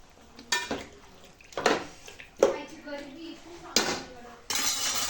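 Chicken biryani being stirred in a pot, with a few scattered metallic spoon scrapes and clinks against the pot, close and moderately loud, with quieter stretches between.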